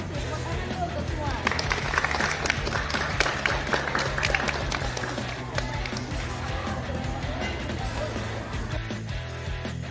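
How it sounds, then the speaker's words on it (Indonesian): Applause breaks out at a school flag ceremony, with many hands clapping in a dense, steady patter over a continuous hum and scattered voices. "Tepuk tangan dulu untuk semua."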